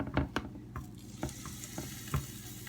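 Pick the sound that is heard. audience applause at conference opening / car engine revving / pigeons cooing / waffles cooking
waffles cooking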